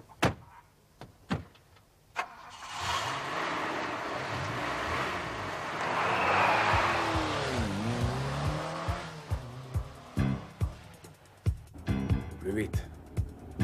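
A car pulls away hard, engine roaring and rising in a loud sweep with a tyre squeal, framed by door thumps and clunks before and after, while voices talk over parts of it.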